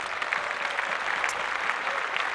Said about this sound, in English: All right, and applause.